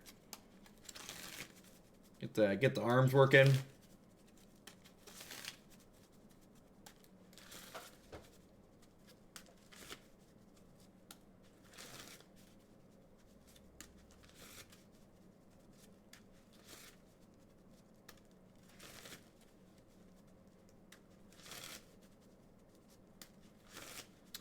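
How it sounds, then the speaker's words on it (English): A deck of cards gets shuffled in one quick, crisp riffling burst early on, followed by faint scattered taps and handling noises, with a voice speaking briefly. "Gotta work the shuffling deck here for a second"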